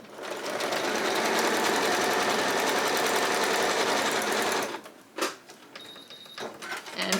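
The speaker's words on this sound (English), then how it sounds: "I'm just going to sew those on the solid line" A sewing machine stitches paper-pieced quilt sections in a rapid, steady mechanical chatter lasting several seconds, then stops, leaving a few quiet clicks and handling sounds.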